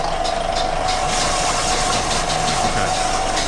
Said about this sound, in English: he's spinning the ice, getting the shavings